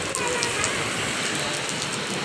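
Heavy rain pours steadily in Dubai, a dense, loud, continuous hiss of drops close by with no pauses.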